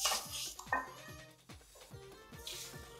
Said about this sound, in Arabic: افضل اقلب فيها على طول عشان انا عايزاها تاخد اللون الذهبي الجميل من غير ما تتلسوع